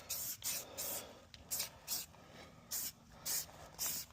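Silicone spray from an aerosol can is applied to a horse trailer in seven or eight short, even hissing bursts with brief pauses between them, close by.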